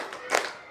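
A class of students clap their hands together in one quick burst, a near, sharp double smack in a classroom.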